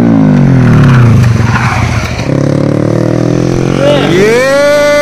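Motorcycles such as a KTM Duke 390, Yamaha MT-15, KTM Adventure 390 and Yamaha R15 perform at a stunt show, engines revving loud and close with rising and falling pitch and shifting gear sweeps.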